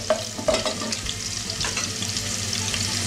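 Chopped ginger frying in a pan, a steady sizzle under a few close scraping strokes of a spoon stirring it, brief and clear with no talk.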